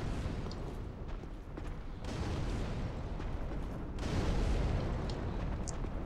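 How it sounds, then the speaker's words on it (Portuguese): Bombs go off in the video game Dark Souls 3, with loud rumbling blasts and a dense roar of combat noise. Two heavier surges come several seconds apart. "Jogar umas bombinhas nele."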